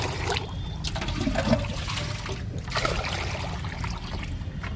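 Water sloshing and swirling inside a container as it is stirred, a continuous splashy churn with a few louder surges.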